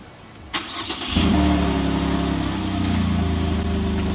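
A Chevrolet Colorado Z71 pickup engine starts after a few clicks and rustles, then settles into a steady, close, low idle hum that stays even and continuous to the end.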